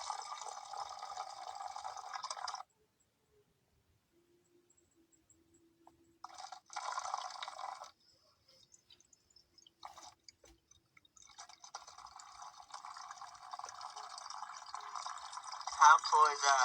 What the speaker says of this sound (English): When I pour the water, it actually like shoots out of it.